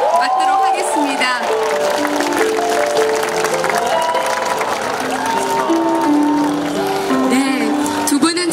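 A rally crowd applauds and cheers as a guest singer is welcomed onstage, a steady loud wash of clapping with music and voices mixed in throughout.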